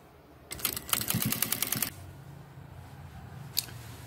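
A sewing machine runs a quick burst of rapid even stitching along a knit jumper seam, close and clattery for over a second, then quiet with a single later click.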